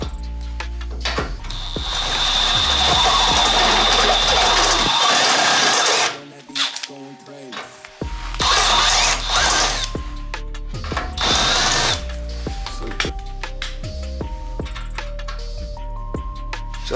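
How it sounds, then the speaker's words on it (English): A step drill bit enlarges a hole in a Honda Civic EG body panel for a battery relocation rivet nut, the close power drill whirring steadily in bursts that stop and restart. "because I don't have the right size, I'm gonna use a step bit"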